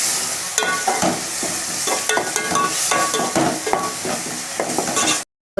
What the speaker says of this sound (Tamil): இப்போ இஞ்சி பூண்டு பேஸ்ட்டு சேர்த்துக்கலாம். நல்லா வதக்கிக்கலாம்.